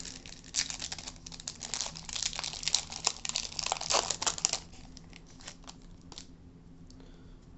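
Foil wrappers of 2020 Topps Chrome Update card packs crinkle and tear close up, a dense burst of crackling in the first half thinning to occasional rustles, quiet and without talk.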